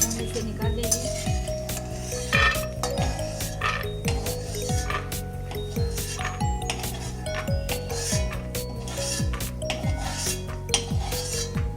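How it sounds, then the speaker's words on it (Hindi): Peanuts roast in a kadhai for poha chivda, the nuts clinking and rattling rhythmically against the metal pan in quick repeated bursts, with steady tonal scraping underneath. "आवाज़ आने लगेगी तो समझना है कि हमारा सिंगदाना जो है वो पकने के लिए शुरू हो गया।"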